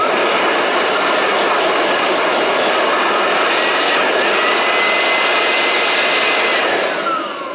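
A Makita DUB185 cordless blower runs steadily on a low setting, a loud continuous whooshing airflow with a faint whine that holds evenly throughout and begins to tail off near the end.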